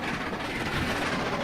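Train running on rails in the Train Simulator video game, a steady, continuous rumble and rolling clatter that stays loud and even throughout, with no talking over it.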